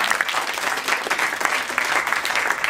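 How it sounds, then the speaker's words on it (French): An audience at a fantasy short-story competition event claps in a steady, dense wash of applause, loud and close, with no other sound standing out. "Merci beaucoup Julien, on peut l'applaudir encore."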